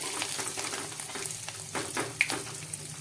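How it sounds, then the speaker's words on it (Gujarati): Cumin seeds with ginger-garlic paste sizzle steadily in hot oil while being stirred, a continuous crackling fry with a few sharper pops, moderately close and heard alone. "તેલ આપણું ગરમ થઈ ગયું છે તો એમાં આપણે થોડુંક જીરું નાખી દઈશું એમાં આપણે આદુ અને લસણની પેસ્ટ નાખશું"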